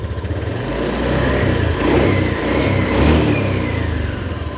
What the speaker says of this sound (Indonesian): Coba kita gas, apa dia turun.